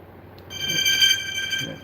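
An older cell phone rings with an incoming call, a steady electronic tone with stacked harmonics sounding for over a second at moderate loudness, close by in a quiet room.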